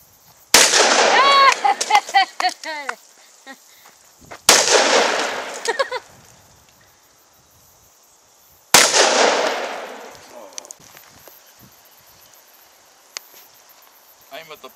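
Three loud, sharp .44 Magnum revolver shots fired outdoors at water bottles, spaced several seconds apart, each a close crack followed by a short fading echo and quiet between, with brief bursts of voices around the shots.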